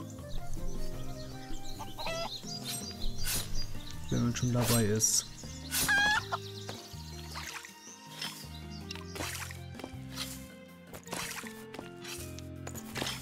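A chicken clucks in a German-played session of the video game Craft the World, with short bird-like calls scattered among game music and sound effects while someone talks over it.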